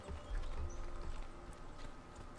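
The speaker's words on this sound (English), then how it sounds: "Thank you very much for the horse." A horse in Assassin's Creed II clip-clops along at a steady gait, soft and fairly distant under a dense game ambience.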